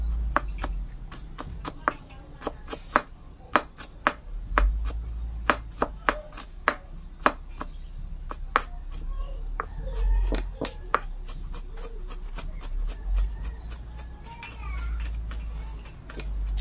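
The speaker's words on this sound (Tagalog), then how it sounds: "kung gusto niyo medyo malaki din yung paghiwa ng luya o liita ninyo" A knife chops ginger on a cutting board in a home kitchen while chicken feet are prepared, giving a long run of sharp, close, irregular taps that bunch into quick bursts and then thin out over a low background hum.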